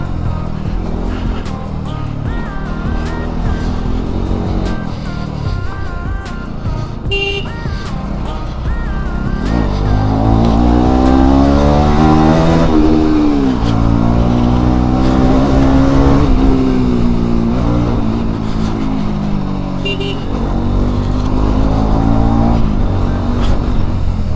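A motorcycle engine runs near and loud for a long stretch, idling then rising and falling in pitch as it revs, with a steady mechanical drone throughout.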